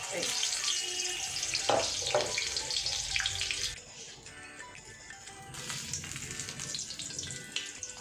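Gourd leaves stuffed and dipped in besan batter, frying in hot oil with a steady, hissing sizzle that drops briefly midway, then swells again, close and loud, with no talking over it.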